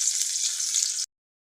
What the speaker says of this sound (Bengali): পেঁয়াজটা ভালোভাবে ভেজে নিতে হবে।